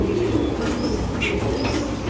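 A pigeon coos softly nearby, low murmuring calls repeating over a constant background hum, with no speech.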